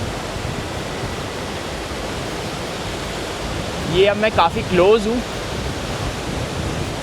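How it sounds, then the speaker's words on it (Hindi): A waterfall near Adelboden, Switzerland pours onto rocks with a steady, rain-like roar heard up close. Someone speaks briefly over the rushing water partway through. "जो वाटरफॉल का पानी है वो पत्थरों से टकरा के, चट्टानों से टकरा के ऐसा लग रहा है कि वो बारिश हो रही है यहाँ पे"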